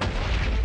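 A short, loud booming blast from an explosion in the video game Minecraft, a single dense burst filling the moment with no voices over it.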